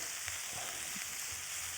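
Roasted chicken pieces frying in a pan with a steady, close sizzle and faint scattered pops, heard alone without any talk.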